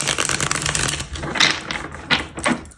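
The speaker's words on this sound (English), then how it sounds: "I'm going to shuffle this deck in 2 parts because it's a big deck." A large deck of cards is shuffled by hand during a reading, giving close, rapid riffling and flicking in uneven bursts with no talking.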